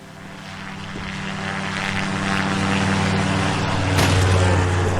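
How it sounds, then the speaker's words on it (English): In the game Greyhill Incident, a propeller airplane engine drones steadily nearby, building slightly in loudness, with a rumbling low hum and a brief rise near the end. "I got the plane working."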